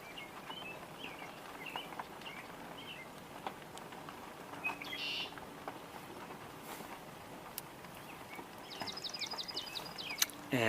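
A swamp sparrow gives a faint call, ending in a quick, even trill near the end over a quiet outdoor background with scattered soft rustles.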